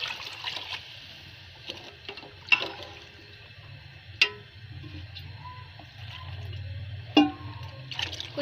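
Water trickles and splashes into a pot of mutton pulao with garlic, soft and close, with a few sharp clinks of utensils over a low background hum.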